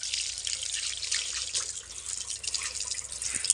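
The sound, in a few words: water poured while washing hands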